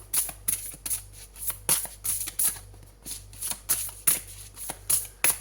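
Tarot cards being shuffled and drawn during a horoscope reading, a steady run of crisp riffling flutters and soft slaps close to the mic, repeating in quick bursts with no talking.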